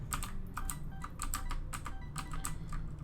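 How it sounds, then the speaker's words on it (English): Rapid clattering keystrokes on a loud computer keyboard during a Binding of Isaac: Afterbirth+ game session, coming in uneven bursts of quick taps with brief pauses, close and fairly soft, with no voice. "I'm sorry if my keyboard is really loud."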